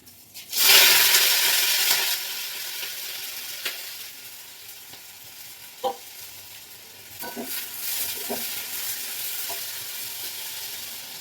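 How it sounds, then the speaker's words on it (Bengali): Oil sizzles loudly as eggplant slices are added to a hot pan, then settles into a steady frying hiss with occasional clinks and stirring sounds. "এখানে আমার বেগুন ভাজা প্রায় হয়ে গেছে"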